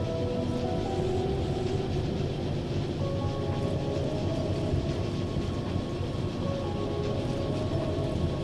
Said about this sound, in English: I think I can see the coal train there, so hopefully it's on its way down